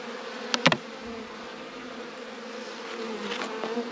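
Honeybees buzzing around an open nucleus hive, a steady close hum with a few louder individual bees darting past, no talking.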